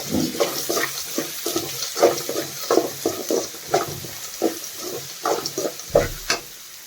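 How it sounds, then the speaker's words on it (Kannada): Onions frying in a pan with a pinch of salt for a tamarind gojju, with a steady sizzle broken by repeated scraping stirs at close range. "ನೋಡಿ ಆನಿಯನ್ ಎಲ್ಲ ಚೆನ್ನಾಗಿ ಫ್ರೈ ಆಗಿದೆ."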